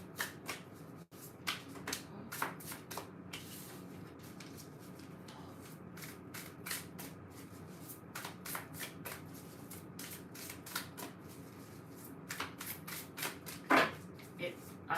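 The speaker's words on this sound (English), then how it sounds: "I like the way it shuffles. It feels good." A Nightfall tarot deck is shuffled over-under again and again, giving close, crisp papery flicks and soft snaps in an uneven rhythm, with a few sharper slaps near the end over faint background murmur.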